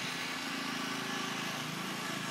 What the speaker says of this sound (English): my neighbor decides to start tilling